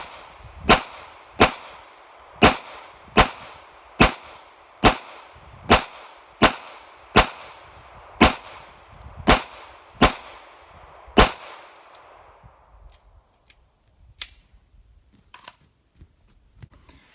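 Rapid gunfire aimed at a BulletSafe soft armor vest on a target dummy: about fourteen sharp, loud shots in a steady rhythm over roughly eleven seconds, each with a short ringing tail, followed by quieter outdoor sounds and one fainter later shot.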